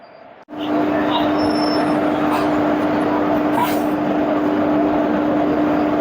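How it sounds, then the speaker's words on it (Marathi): A loud, continuous rumble of the Mahalaxmi Express pulling into a station, with a steady tonal whine and occasional squeals over the clatter; no talking. "महालक्ष्मी एक्सप्रेस आलेली आहे ट्रेन आलेली"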